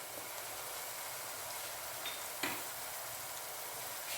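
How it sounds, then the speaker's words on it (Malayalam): Onions and spices fry in oil over a low flame while a tomato chicken dish is cooked, giving a steady, soft hiss and crackle throughout, with one faint tap partway through. "ചെറിയ തീയിൽ വഴറ്റിയെടുക്കണം"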